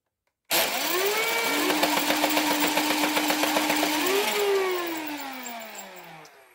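A modded Nerf Elite Titan blaster with pro flywheel motors on 11.1 V spins up and fires a burst, a loud whirring motor whine with rapid rhythmic thumps lasting several seconds, then winding down as the motors coast to a stop.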